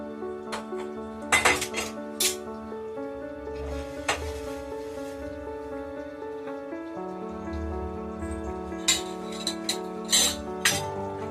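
A tawa pan is set onto a stove, with sharp metallic clanks and clinks of cookware scattered over a steady background hum, loud and close.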